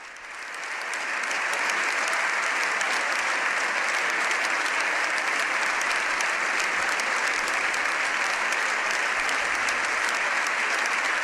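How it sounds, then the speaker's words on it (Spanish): Long, sustained applause from a large audience of deputies and senators in the Spanish Congress of Deputies, rising over the first second and then holding at a steady, dense, full level to the end, with no talk over it. "Este es el largo aplauso del Congreso."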